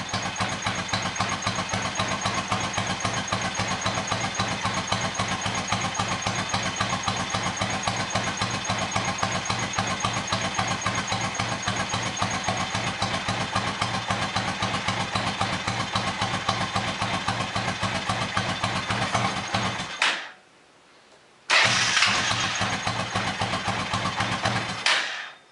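A car engine idling steadily and close by, an even rhythmic mid-pitched chug that runs unbroken for about twenty seconds, cuts out abruptly, then briefly catches again before stopping.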